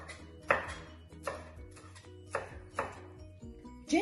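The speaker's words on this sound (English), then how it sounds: "So let's roughly chop these." Knife roughly chopping deseeded chillies on a board for red curry paste, about six separate thuds at irregular intervals, close and fairly quiet, with a low steady hum underneath.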